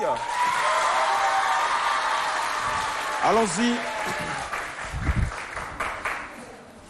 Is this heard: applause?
yes